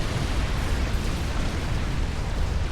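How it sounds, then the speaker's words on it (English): Bombs from an experimental unit strike a shielded base in a Supreme Commander 4v4 match, producing a dense, continuous, loud rumbling roar of explosions heard alone for several seconds. "Bombs away on Morax's base."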